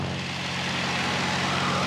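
Spitfire plane performing aerobatics such as an aileron roll, its engine giving a loud continuous roar that swells slightly, heard close with no talk.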